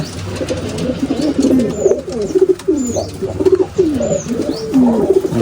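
Caged pigeons coo up close in a loud, steady run of soft, rolling calls, with fainter chirps and small scuffles in the background.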